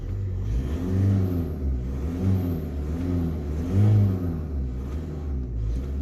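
Car engine revving in park after an aftermarket high-performance air filter change, several rising and falling throttle blips with a strong low rumble, close and loud, no talking.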